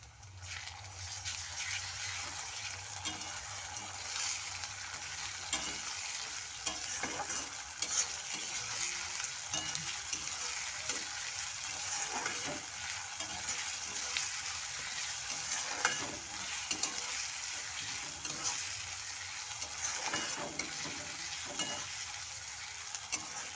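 Ginger-garlic paste frying with browned onions for a chickpea ghugni, a continuous loud sizzle broken by repeated scraping strokes of a spatula stirring the pan, no voices.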